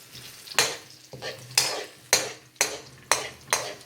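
Eggplant and jalapenos sizzle in a stir fry pan while being stirred, with six regular scraping strokes over a steady close frying hiss.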